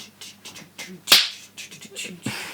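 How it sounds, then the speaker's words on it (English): A single loud, sharp hand clap rings out close by, standing alone among softer clicks and faint background sounds. "clapping so loudly"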